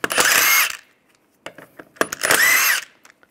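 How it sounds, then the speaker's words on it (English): A power tool with a 17 mm socket spins off lug bolts on a 1998-2010 Volkswagen Beetle, two short high whirring bursts separated by metallic clicks and clatter. "Then using the same 17 millimeter, we're gonna take off the lug bolts."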